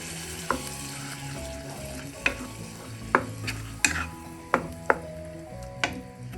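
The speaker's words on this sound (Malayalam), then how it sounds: "അരപ്പ് കൂടെ ചേർത്ത് ഇളക്കി കൊടുക്കാം." A spoon stirs ground paste into an okra and tomato curry in a pan, giving a steady low sizzle with several sharp clinks against the pot, alone without talk.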